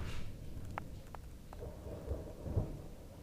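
Crackling thunder during a dark night lightning storm, with sharp distant cracks and rumbles over a steady hiss of rain.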